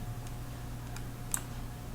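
Three faint, sharp clicks spaced irregularly over a steady low hum, like a computer mouse button being pressed.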